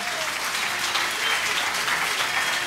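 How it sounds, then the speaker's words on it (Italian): An audience at an accordion gala in a dance hall breaks into sustained applause, a dense, even roar of many hands clapping without a break, fairly loud and with no talk over it. "grande applauso."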